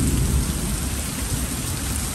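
A sudden rainstorm with thunder sweeps over open farmland, steady loud rain pounding surfaces with a dense low rumble of thunder running through the whole stretch, no voices heard.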